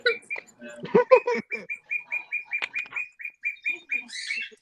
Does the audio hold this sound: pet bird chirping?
yes